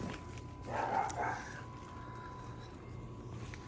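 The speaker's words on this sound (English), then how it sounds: "And Lulu, we got a new neighbor and they have a little doggy" A neighbor's small dog barks briefly in the distance, a short faint burst of yips over quiet garden background.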